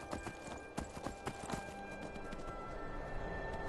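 A horse galloping in the Skyrim video game, rapid close hoofbeats in a quick uneven rhythm that blur into a continuous rumble over a soft background drone, without speech.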